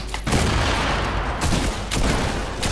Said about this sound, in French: Ah, y'a un mec qui t'a tué au fusil.